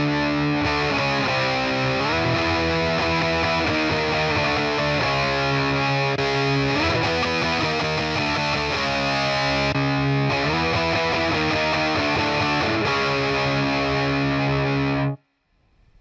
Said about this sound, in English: So let's give it a little bit of reverb.